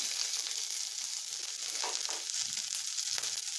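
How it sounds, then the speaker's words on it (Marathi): Chopped onion, with cloves and bay leaves, sautéing on low heat in a pan for soybean curry, giving a steady soft hiss of frying with faint occasional stirring clicks, close and continuous without talk. "हे आपल्याला कमी गॅसवरती परतून घ्यायचं आहे चांगलं कांदा गोल्डन ब्राऊन होईपर्यंत परतून घ्यायचा आहे"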